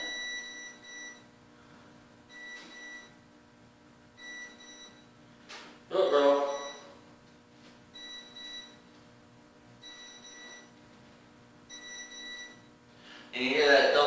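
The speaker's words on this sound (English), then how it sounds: "you hear that double beep, and that means we've got a problem" A power tool cutting along a marked line sounds a repeating electronic warning tone: short high beeps recur in pairs every couple of seconds over a low hum, with two louder bursts of rough noise in between.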